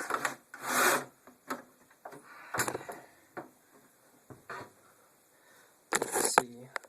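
The intensity knob of a Tektronix 2247A oscilloscope being pulled off: several short, close scraping and rubbing bursts separated by quiet gaps, like plastic grinding against the front panel.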